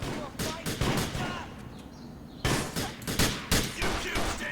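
Rapid gunfire bursts crack out in GTA: The Lost and Damned, loud repeated volleys with a brief lull in the middle before another run of close shots, someone talking between them.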